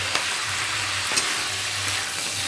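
Tomatoes go into onion stalks frying in oil for a curry, giving a continuous close sizzle with a low hum beneath and a couple of faint stirring clicks.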